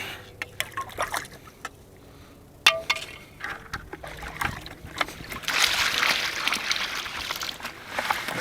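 A Turbo Pan gold pan being filled with gravel beside the South Platte river: scraping, clattering stones and splashes over steady running water, growing busier toward the end.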